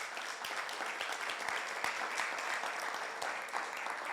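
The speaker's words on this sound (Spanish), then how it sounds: "Denle un aplauso fuerte al Señor" A church congregation applauds loudly and steadily during a worship service, a dense continuous clapping that fills the whole stretch without pause.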